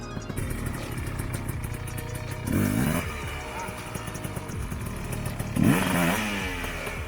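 Enduro dirt bike riding slowly over an obstacle during off-road training, its engine puttering steadily, then revving in two brief surges as the bike climbs over.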